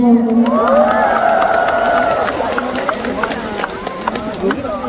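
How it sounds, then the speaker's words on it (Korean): A concert crowd cheers and shouts enthusiastically, loud overlapping voices with whoops and scattered clapping mixed in throughout. "박수 한번 주세요."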